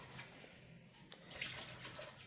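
Water sloshes and churns steadily as it is stirred to mix house paint during a home repainting job, a close, continuous wet swirling with no voices.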